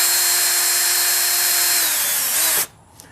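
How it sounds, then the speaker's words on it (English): A handheld power drill whines steadily as it bores into wood while a homemade TV antenna is being built, loud and close, then cuts off abruptly near the end with a small clunk. "I'm gonna go ahead and drill them all."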